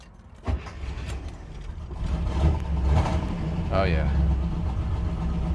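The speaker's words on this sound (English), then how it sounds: "We'll do a cold start here." A 1969 Chevy Camaro Z/28 with a 302 cubic inch V8 cold-starts with a sharp crank and catch, settles into a loud, close, rumbling idle, then gives a brief rev. Someone speaks briefly over it.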